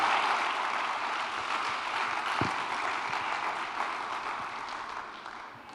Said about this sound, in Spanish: Dele un fuerte aplauso a su Señor.